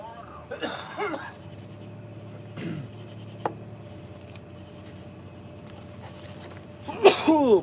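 A single sharp sneeze bursts out near the end of a quiet indoor stretch, after a few faint coughs and throat sounds earlier.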